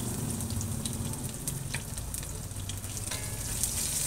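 Garlic sautéing in a pan for a beef stew, a steady close crackling sizzle with scattered spitting pops throughout and no voices.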